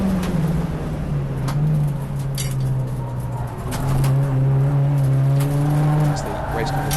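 Race cars circulate at Silverstone International in a BRSCC ClubSport Trophy race, with a steady engine drone that rises and falls, under continuous commentary.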